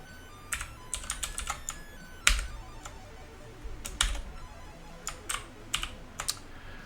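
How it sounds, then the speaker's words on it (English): Typing on a computer keyboard, irregular bursts of sharp key clicks with a few louder strikes and short pauses, close and clear with no talking. "Pressing keys all over the place."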